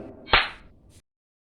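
A single sharp whip-like strike sound effect for someone being hit in a religious drama, a loud crack followed by a brief fading tail before silence.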